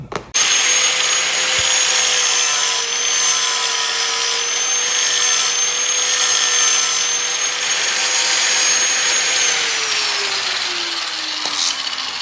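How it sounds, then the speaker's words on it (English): A power grinder runs continuously for about twelve seconds, taking material off an Acura NSX radiator part for clearance, with a steady loud whine that dips and drops in pitch near the end. "grind a little bit off"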